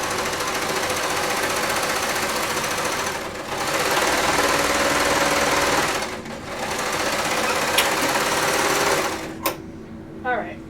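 A sewing machine stitches the bottom of a sweater sleeve, running in a steady loud whir that stops and restarts twice before cutting off near the end, with voices audible underneath.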